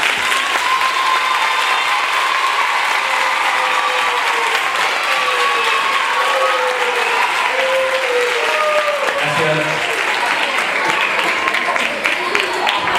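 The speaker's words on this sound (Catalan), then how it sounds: "M'agradaria fer un aplaudiment per tots aquests nens." Sustained applause from an audience for children after a school performance, loud and steady for the whole stretch, with scattered voices and faint tonal sounds mixed into the clapping.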